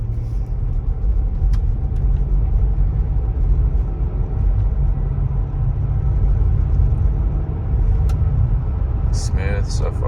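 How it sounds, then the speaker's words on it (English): Interior of a car on a test drive before timing chain work, a steady low engine and road rumble throughout with a few faint clicks and a brief rattle near the end. "So I'm taking it out on a little test drive to see"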